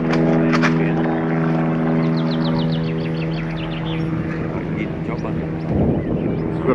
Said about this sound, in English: We've got a chopper up there